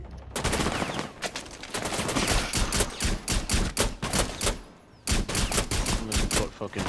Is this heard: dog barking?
no